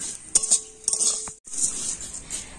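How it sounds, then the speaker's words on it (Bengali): Vermicelli fried with cashews and raisins is gently turned in a pan, giving light metallic clinks and scrapes of a utensil in a few spaced bursts over a soft background hiss, with no talking. "এরকম কাজু কিশমিশ দিয়ে একটু হালকাভাবে নেড়ে নেব"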